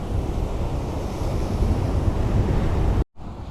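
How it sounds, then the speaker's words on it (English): Steady broadband sea waves wash ashore at Can Pastilla, Mallorca, with wind rumble on the microphone throughout and a brief dropout near the end. "We're going to leave the exciting waves of Can Pastilla"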